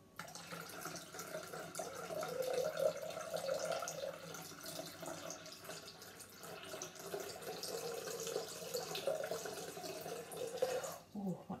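Water runs steadily from a tap into a Thermomix TM6 bowl, a continuous close splashing flow with slight shifts in tone and no talking.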